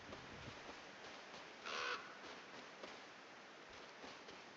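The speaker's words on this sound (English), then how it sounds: "those crows are going after him again" A crow caws once, moderately close, in the video game Reka, set against a steady soft outdoor ambience; no one speaks.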